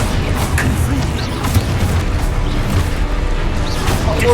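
The Confringo fire spell exploding in the Hogwarts Legacy video game, a dense, loud rumble of booming blasts and crashing impacts that runs continuously through the clip.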